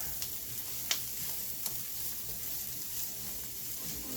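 Cabbage roll casserole cooks in a covered pan over medium-low heat, giving a steady, quiet sizzle with a few faint clicks and taps, and no voices.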